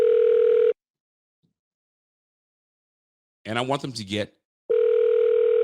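A telephone dial tone plays in two steady, loud bursts at the start and end of a call to a friend, separated by silence and a short spoken phrase.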